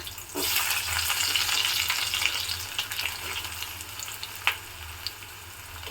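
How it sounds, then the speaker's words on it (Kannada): Onion and green chillies dropped into hot oil, a sudden burst of crackling sizzle that settles into a steady, moderately loud fry with a sharp pop near the end; no voices. "ಇವಾಗ ಈರುಳ್ಳಿ ಮೆಣಸಿಕಾಯಿ ಹಾಕೊತಿದ್ದೀನಿ. ಚಟಪಟ ಅಂತ ಸಿದ್ಬಿಡುತ್ತೆ."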